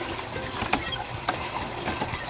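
Water pours and trickles into a hand pump to prime a historic house's water supply, a steady liquid wash with occasional metallic clicks of the mechanism.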